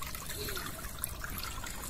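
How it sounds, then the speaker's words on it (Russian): A small stream trickles and babbles over stones on a rural homestead, a steady soft wash of running water without talk. "Классный ручей, классный."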